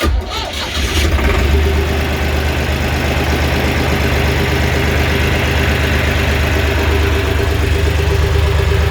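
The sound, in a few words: old boat engine running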